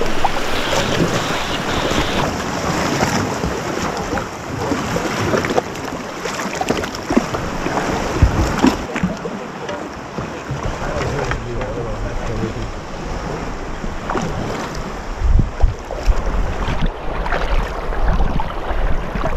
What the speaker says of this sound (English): Another day of paddling.